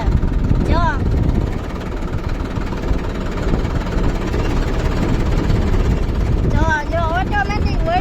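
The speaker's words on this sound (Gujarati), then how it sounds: "જો વળી ગયો આખું ટ્રેક્ટર" Tractor engine running as the tractor turns, a steady close mechanical drone under talking.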